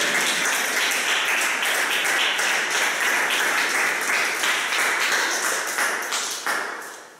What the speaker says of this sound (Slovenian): Dvignite roke in aplavz za sanje